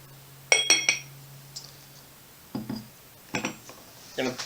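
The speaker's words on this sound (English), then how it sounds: "We take a tablespoon of sugar, we'll put that in our glass." A tablespoon of sugar goes into a glass for a mint julep, giving a few light glassy clinks and scrapes in short separate bursts, close by and fairly quiet, with gaps of near silence between them.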